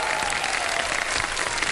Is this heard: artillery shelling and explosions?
no